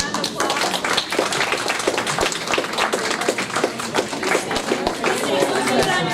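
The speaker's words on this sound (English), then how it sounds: "We'll give our presenters a round of applause." A room of attendees claps for presenters at a university seminar, dense and sustained close applause with a few voices chattering underneath throughout.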